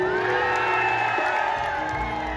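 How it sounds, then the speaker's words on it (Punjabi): A live crowd at a film promotion show in Barnala cheers and whoops for Sidhu Moose Wala, a loud, dense, continuous roar that holds steady throughout. "ਦੂਜੀ ਤਾੜੀ ਮੇਰੇ ਭਰਾ ਸਿੱਧੂ ਮੂਸੇ ਵਾਲੇ ਦੇ ਨਾਂ ਦੀ ਜ਼ਰੂਰ ਮਾਰਿਓ"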